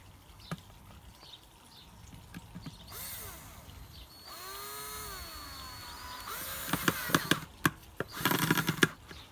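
A power drill driving screws into a wooden treasure chest lid, with several whirring bursts of rising and falling pitch, clicks and knocks between them, and loud rattling handling near the end.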